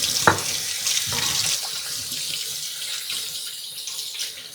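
Water runs steadily from a kitchen tap into a sink during handwashing, a continuous hiss with a few soft knocks and splashes near the start, no voices.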